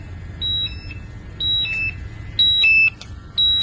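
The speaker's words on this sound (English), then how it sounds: "you can hear the alarm going off" A gas detector alarm beeps in repeated bursts of high electronic tones, each lasting about a quarter second, over a low steady hum.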